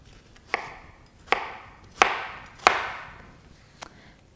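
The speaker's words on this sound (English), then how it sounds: "if you want to cut your onion chop, that means in the bigger cube pieces" Knife chopping an onion into larger cube pieces on a cutting board, five crisp, evenly spaced thuds, close and clear with no talking.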